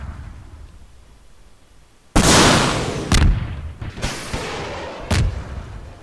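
A Panzerschreck rocket launcher fired at a tank in Garry's Mod, first a quiet lull, then a sudden loud blast followed by several sharp booming detonations spaced about a second apart, with nearby rumbling decay.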